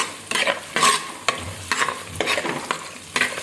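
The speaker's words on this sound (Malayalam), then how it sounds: "നമുക്ക് ബാക്കി ഉള്ളിയും വെളുത്തുള്ളി ഇഞ്ചിയും കറിവേപ്പില എല്ലാം ഇട്ടൊന്ന് നല്ലോണം ഒന്ന് വഴറ്റി എടുത്തിട്ട്" Onion, garlic, ginger and curry leaves are stirred and sautéed in a pan for a buffalo meat curry, with rhythmic scraping strokes of the spoon over a continuous close sizzle.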